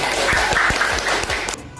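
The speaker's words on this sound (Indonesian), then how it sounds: "tepuk tangan" A classroom of students applauds during a lesson, giving a short burst of clapping with several louder, distinct hand claps standing out before it cuts off.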